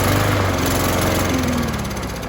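A 2015 Yard Machine lawnmower with a Briggs 140cc engine and new-style carburetor runs close and loud, a steady buzzing drone that stays even from start to finish.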